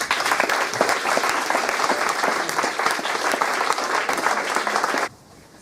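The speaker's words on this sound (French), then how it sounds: "vous demander une dernière fois de les applaudir" Loud, sustained applause from delegates at the closing of a model United Nations session, steady dense clapping for about five seconds before it cuts off abruptly.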